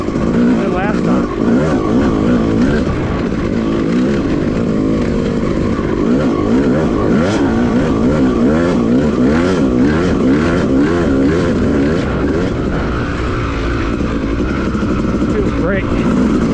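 A Yamaha YZ250 two-stroke dirt bike rides through whoops on a muddy woods trail after rain, its engine rising and falling continuously in quick waves, loud and close, with wind buffeting and a rider talking over it.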